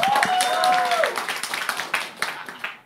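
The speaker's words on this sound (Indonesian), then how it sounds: "Boleh tepuk tangan buat kita semua" Hand clapping from the crowd at a stand-up comedy competition, loose individual claps ringing out under a rising whoop or cheer, thinning into scattered claps.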